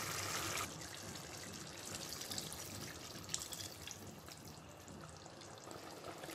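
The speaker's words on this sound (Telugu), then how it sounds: "మనం ఇంకొంచెం నీళ్ళను వేసుకుందాము." Water pouring into a pot of chicken curry for a chapati gravy, a steady close trickle and splash with no talk.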